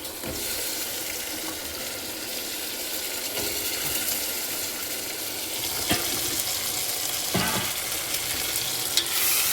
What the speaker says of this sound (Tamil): இதுவும் நல்ல எண்ணெயில் நல்ல கத்திரிக்காய் வதங்கணும்